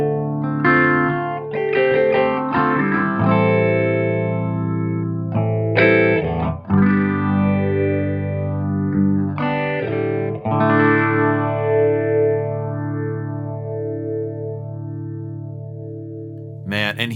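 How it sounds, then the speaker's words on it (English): Electric guitar plays through a Hardwire SP-7 stereo phaser on its four-stage setting, with sustained distorted chords and notes swept by slow, chewy phasing, loud and without talk. "Then there's a 4-stage phaser, and that's like your more common phase 90 type of phaser"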